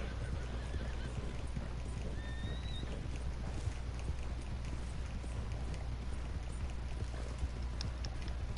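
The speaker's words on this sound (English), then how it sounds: "Come on, horses, get out of the way." Galloping horses in Red Dead Online pound out a dense, continuous run of hoofbeats over a low rumble, with a brief whinny near the start and faint background voices.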